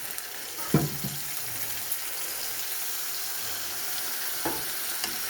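Water is poured into a bowl holding leftover cashew and poppy seed paste and swirled to rinse it, a soft running splash over a steady sizzle from a pan, with a couple of brief clinks.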